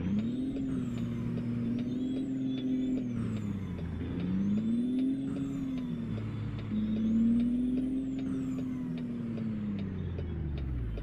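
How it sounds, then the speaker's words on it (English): Truck engine in American Truck Simulator labouring and straining, as if reluctant to pull into gear, droning steadily with pitch rising and sagging in repeated waves, loud and continuous, no talk. "it sounds like something's wrong with the engine. Like it doesn't want to get up to gear"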